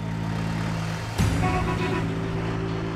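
A police-escorted car convoy leaves the Cairo museum amid road traffic, with a steady engine hum and a sudden horn toot partway through, followed by a rising vehicle sound.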